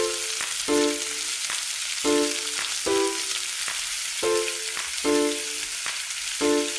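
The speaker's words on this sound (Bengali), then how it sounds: "এরপর আদা বাটা ও রসুন বাটা দিয়ে একটু নেড়েচেড়ে নিলাম কাঁচা গন্ধটা মিলিয়ে যাওয়া" Ginger and garlic paste frying and being stirred in hot oil for vegetable pulao, a steady close sizzle broken by repeated scraping strokes of a spatula against the pan at a regular rhythm, with no talking.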